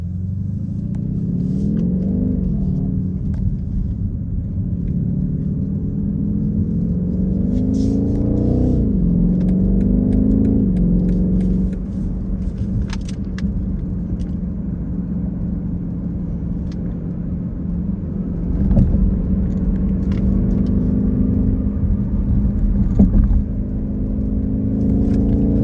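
A 2023 BMW X6 M50i with a V8 engine accelerates in manual mode, its meaty exhaust note rising and falling through several surges in a steady, loud rumble heard from inside the car, with no talking.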